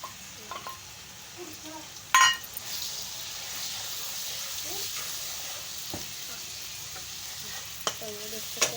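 Masala being added to onions browning in ghee for an aloo anday salan, with a steady frying sizzle and a few sharp clinks of a spoon stirring against the pan, fairly quiet and close.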